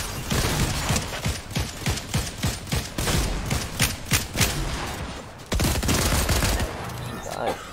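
Rapid bursts of gunfire from an Apex Legends match crackle loudly and almost without pause, with a short drop just past the midpoint before shooting resumes.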